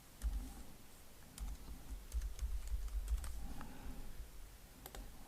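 Computer keyboard typing while text is retyped in a graphics program, soft clicking keystrokes in irregular clusters over a low background hum, close and fairly quiet.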